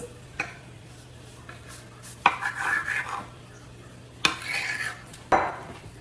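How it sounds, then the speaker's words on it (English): A knife or dough cutter splits risen homemade pizza dough in two on a counter, making a few distinct clacks and taps with short scraping passes between them, close and moderately loud, with no talking. "Let's cut it because this is for 2 pizzas."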